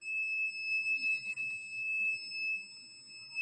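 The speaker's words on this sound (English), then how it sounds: "It's like a smoke detector." Electronic alarm sounding in a jail cell block, heard from floors away, a steady high-pitched continuous tone like a smoke detector, faint and distant against a quiet background.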